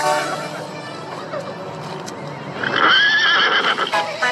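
Toy horse whinnying in a high-pitched neigh that rises in the second half, loud and close over a busy background of children's play with toy cars.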